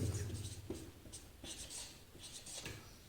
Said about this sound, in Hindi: इसको मैं यहां से इस तरह से लिखता हूं कि आपको दिखे